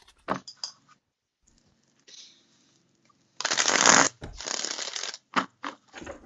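Tarot cards being shuffled up close: a few quick riffles and flutters, separated by short pauses, with one long riffle in the middle.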